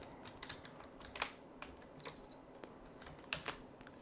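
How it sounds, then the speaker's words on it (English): Keys clicking on a computer keyboard as a terminal command is typed, a quick irregular run of light taps, close and quiet, with no talking. "Now we need to type only one command."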